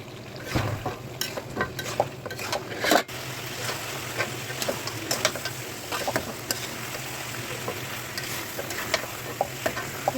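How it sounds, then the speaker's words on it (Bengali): Duck meat with whole garlic cloves is stirred and fried in a pan, giving a continuous sizzle broken by frequent sharp scrapes and clacks of the spoon against the metal. "সুন্দর ভাজা ভাজা হয়ে গেছে, কষায় কষায় কালো কালো করে যায়,"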